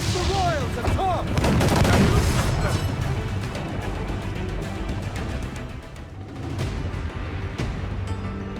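Ship cannons fire in the pirate video game Assassin's Creed 4 Black Flag, a rolling barrage of booms and crashes over a steady roar, with a voice shouting briefly near the start.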